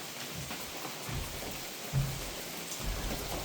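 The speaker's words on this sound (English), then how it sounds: "I'm getting out of the rain, take a quick break." Steady rain patters softly near a trail shelter on the Long Trail, a quiet continuous hiss with occasional faint drops and low rumbles, and no voices.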